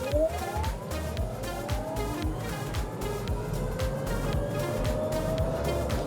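A VinFast VF3 mini electric car accelerating hard in sport mode, with a steady whine rising in pitch over continuous road and tyre rumble, close and fairly loud throughout.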